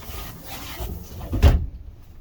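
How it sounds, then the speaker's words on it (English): A bed in a 2021 TrailManor 2720QB camper slides out along a rail with a brief scraping rush that ends in a soft thump, over faint room noise. "Both of the beds slide out on this rail."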